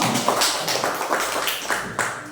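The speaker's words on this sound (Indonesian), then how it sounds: "beri tepuk tangan buat temanmu" Schoolchildren in a classroom clapping for a classmate, a light rhythmic patter of small hands, fairly close and uneven, lasting a couple of seconds with no talk over it.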